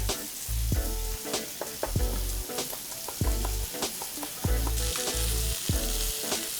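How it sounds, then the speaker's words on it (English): Garlic cloves frying in hot grapeseed oil in a pan, a steady loud sizzle broken by repeated clanks and scrapes of a utensil against the pan, with no talk. "Couple cloves of garlic, and then we'll go into a nice hot pan with some oil"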